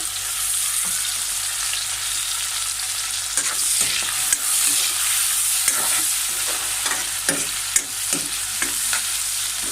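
Onions fry steadily in hot oil in a pan where chicken was fried earlier, with a continuous bright sizzle and intermittent scraping stirs of the spatula, close and fairly loud, no talk.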